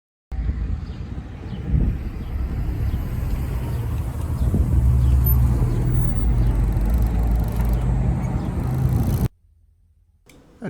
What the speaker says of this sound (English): And now I'm just going to take the car out for a drive